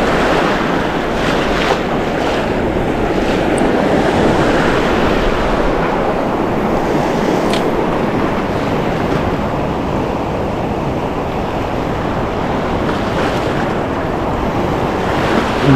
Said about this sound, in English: Incoming tide.